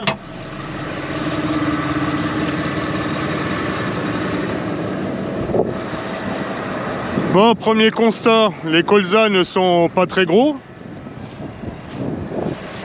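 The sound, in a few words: wind blowing on microphone in field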